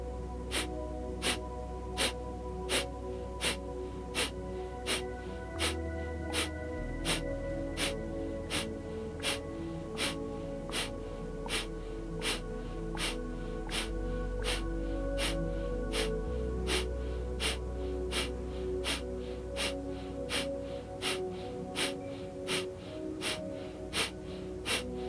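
Kapalabhati yoga breathing: forceful, pumping nasal exhalations repeat at a fast, very even pace, dozens of sharp bursts in a row, close and distinct over soft sustained background music.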